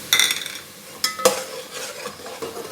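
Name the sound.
ginger garlic frying with onions in pan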